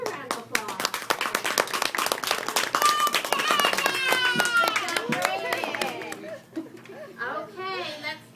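An audience at a child's award ceremony claps for a four-year-old boy, a dense patter of applause filling the room, with children's voices and chatter mixed in and the clapping thinning toward the end.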